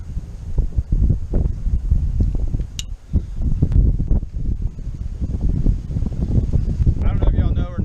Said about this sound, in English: it's probably gonna be pretty windy out here